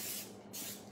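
Non-stick cooking spray aimed into an 8x5 bread pan, two short close hissing bursts separated by a brief pause, with no talking.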